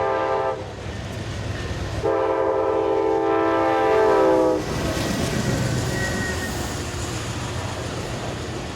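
A diesel train horn blares in two long chords as a long passenger train of 17 passenger cars and 33 auto racks, pulled by two P40 diesel locomotives, rumbles past in eastern Virginia, its steady roar and rattle continuing after the horn stops.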